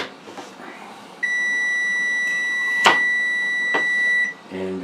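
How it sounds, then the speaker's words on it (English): During Thanksgiving cooking, a kitchen appliance timer gives one long, steady electronic beep lasting about three seconds, close by, with a couple of soft knocks in the background. "And the thing goes beep,"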